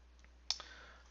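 A single quiet mouse click selects the 3D Text tool in SketchUp 8, a short sharp tick in an otherwise quiet room.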